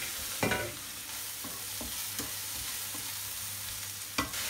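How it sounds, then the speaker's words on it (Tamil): Onion, ginger, garlic and chilli sauté in a pan for chicken kuzhambu, giving a steady low sizzle broken by several sharp scrapes and clinks of a stirring spoon, close and with no talk. "வெங்காயம் நல்லா வதங்கிடுச்சு. அதனால் வந்து நம்ம இஞ்சி, பூண்டு, மிளகாய் அதெல்லாம் போடுறோம்."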